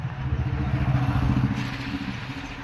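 A harvester machine working a paddy field makes a steady, close mid-range engine rumble with a slight rhythmic clatter, running without a break.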